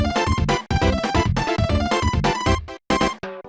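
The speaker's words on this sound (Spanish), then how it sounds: "Pues la música del password que suena así" Password screen music from the Super Nintendo game Smash Tennis plays as dense, continuous chiptune with steady rhythmic chords, loud and alone, dropping into brief gaps near the end.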